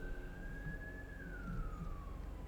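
An ambulance siren sounds faintly in the distance, a single drawn-out wailing tone that holds and then slides lower over low background rumble.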